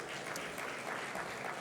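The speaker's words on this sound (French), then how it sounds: "Sous vos applaudissements" Audience applause at a conference on ten years of innovation, a steady wash of clapping from a seated crowd held at moderate level for its whole short length, with no voices over it.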